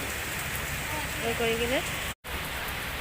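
Heavy rain pours in a steady, dense hiss that fills the whole scene, close and loud, while a voice speaks briefly over it.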